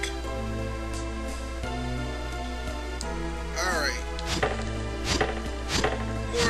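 Repeated chopping hits in the retro role-playing game Mystic Quest, several sharp strikes clustered toward the end over a looping game-music background, with no talk.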